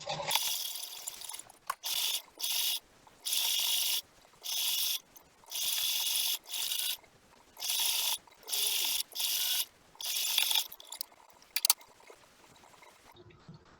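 A sewing machine stitches around the curved edge of an apron pocket in a series of short, close whirring runs with pauses and small clicks between them.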